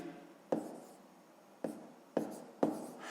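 Pen or chalk writing fractions by hand during a sixth-grade maths exercise, four sharp scratchy strokes spaced irregularly, close and quiet with no talk.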